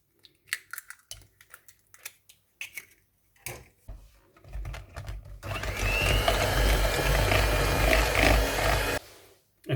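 An electric hand mixer whisks eggs for tea cake batter, a loud steady whirring that runs for several seconds after scattered clinks and kitchen handling, then stops abruptly.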